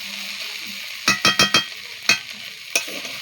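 Cashews, raisins and peanuts fry together in a pan, a low sizzle broken by a quick run of four sharp stirring scrapes, then two more isolated knocks.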